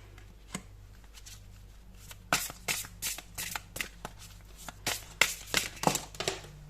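Tarot cards are shuffled by hand, close and soft, in a long run of quick riffling and slapping bursts that start slowly and then pick up into a steady rhythm, with no talking.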